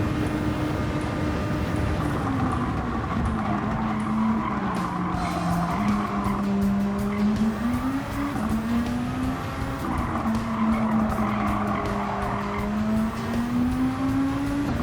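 A Peugeot RCZ Gr.3 race car in a racing video game skids and squeals its tyres continuously, with a loud, wavering engine tone rising and falling throughout, close and without speech.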